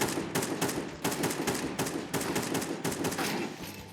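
Rapid bursts of gunfire in Counter-Strike, rounds sprayed to prefire a corner, cracking in fast repeated volleys that run nearly continuously at close range.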